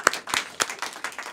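A brief smattering of claps from a small group at a community media arts annual meeting, a handful of distinct hand claps in quick, loose succession, close and unaccompanied.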